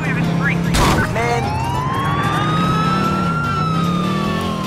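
Police car sirens in Grand Theft Auto IV, a rising and falling wail close by over traffic noise, with a brief crash and a voice talking partway through.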